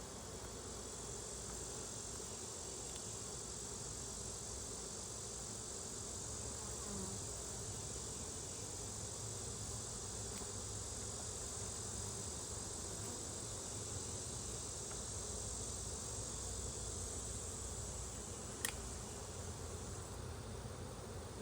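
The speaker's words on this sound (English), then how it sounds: "They're definitely full of bees" Honey bees in an open hive being checked for brood, eggs and the queen hum in a steady, dense drone that goes on unbroken for the whole stretch, with no voices over it.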